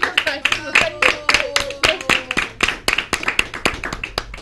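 An audience at a school event applauds its teachers with a scattered run of sharp, separate claps that go on for several seconds, while a voice speaks over them.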